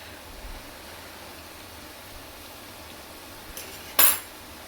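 Fork clinking against a pan of taco salad during tasting, faint quiet scrapes, then one sharp, bright metallic clink near the end.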